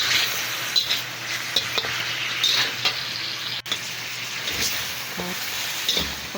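Spicy pork ribs frying in a pan, a steady sizzle with intermittent scraping and stirring clinks, close and fairly quiet, no talking.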